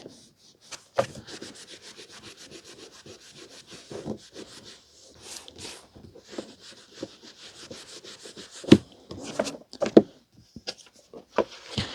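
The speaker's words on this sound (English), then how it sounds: "let's get polishing." Old Penguin paperbacks are polished by hand, giving a soft, steady rubbing and brushing against their covers with a few sharper taps and scuffs, close up and with no talk.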